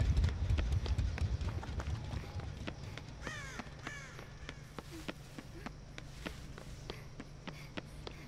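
Crows caw repeatedly in Dead by Daylight, several harsh calls clustering midway over steady running footsteps and a low ambient rumble.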